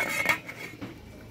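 A metal lid clanks onto a cooking pot of lechon paksiw, a short bright clatter up close followed by a softer second knock, with no voices.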